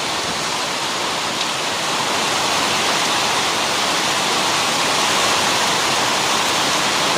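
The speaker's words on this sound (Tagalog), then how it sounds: "Biglang buhos kasi." A sudden, heavy tropical downpour during a storm at a farm with a goat house: a dense, steady roar of rain, loud and unbroken throughout, with no voices.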